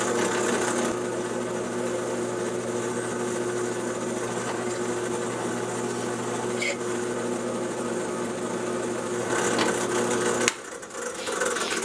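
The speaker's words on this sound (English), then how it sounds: "I'm going to back your drill bit out once in a while so you can take the filings out" A hand drill grinds steadily into a metal bell, a close, continuous rasping whir with a faint scraping edge, stopping abruptly near the end as the bit is backed out.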